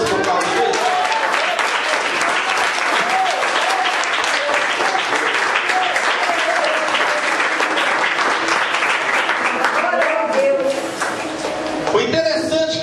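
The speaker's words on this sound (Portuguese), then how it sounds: "Você pode aplaudir Jesus por causa disso?" A church congregation breaks into long, loud applause during a sermon, dense hand clapping from many people that carries on for over ten seconds before tapering off, with voices briefly near the end.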